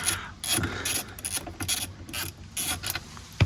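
Machine screws backed out of the tilt steering motor on a Lexus LS400 make rapid repeated ratcheting clicks in short bursts, close and fairly loud, from a hand tool turning them.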